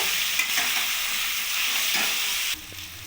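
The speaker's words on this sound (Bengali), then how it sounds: "এবার ভালো করে সবজিটাকে মশলার সাথে কষিয়ে নেব" Steady, loud sizzling of vegetables frying with spices in a pan, with occasional scraping clicks of stirring throughout.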